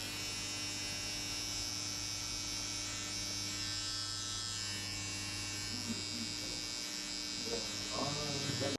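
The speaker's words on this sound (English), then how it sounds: "you use your trimmer and you hit this harsh line between the super 0 and the 0" A hair trimmer cuts a sharp line between super-zero and zero lengths during a burst fade, giving off a steady, close electric buzz with a constant hum throughout.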